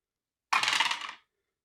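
Four dice rolled for a solitaire wargame, a short burst of rattling clicks lasting under a second, close and crisp against silence.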